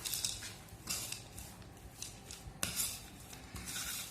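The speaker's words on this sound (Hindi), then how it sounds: "अब हम इसे अच्छे से मिक्स कर लेंगे।" Cheesy potato stuffing for a wrap being stirred in a bowl with a spoon, soft scraping and clinking strokes in an uneven rhythm, close and fairly quiet, with no talking.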